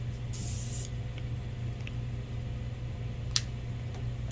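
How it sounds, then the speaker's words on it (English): An airbrush sprays white paint mixed 1-to-1 while detailing a Chevelle, giving a bright, close hiss in one brief burst near the start, then a faint steady hum with a few small ticks. "Airbrush out here."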